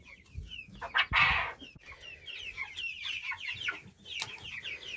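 Chickens cluck and squawk close by, a chattering flock with one louder burst near the start and steady clucking throughout.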